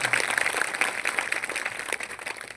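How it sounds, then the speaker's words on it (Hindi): A congregation at a Christmas church service breaks into loud, sustained applause offered to God, many hands clapping together in a dense wash that holds steady for a couple of seconds without speech. "परमेश्वर के लिए एक बार ताली बजा दीजिए जोर से"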